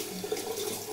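A shaving brush of 70 percent badger and 30 percent boar hair is rinsed under running tap water, a brief steady splashing close by.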